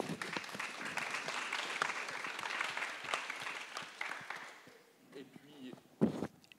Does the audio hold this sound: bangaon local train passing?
no